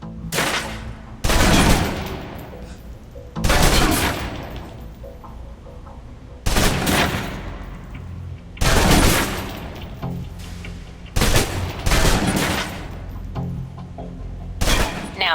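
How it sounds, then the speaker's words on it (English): Submachine gun emptying its magazine in the 2010 video game Alpha Protocol: several loud, sharp bursts of rapid automatic fire separated by short pauses, with booming reverberant tails. "Now, let's move on to the submachine gun. Now let's empty the clip."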